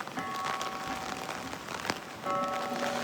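Rain falls steadily during a storm beside garden beds, a constant hiss of drops pattering on surfaces with a few louder taps, plus a faint tonal whine coming and going.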